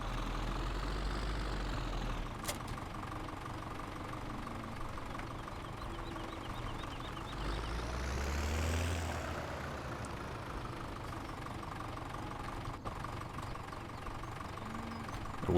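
A tractor engine idles in Farming Simulator 17 with a steady, low, knocking drone that rises and falls slightly midway, alone and at moderate volume.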